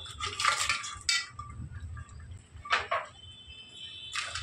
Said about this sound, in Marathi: तर हे बघा शिजवलेले खेकडे आपण यामध्ये टाकून घेऊया.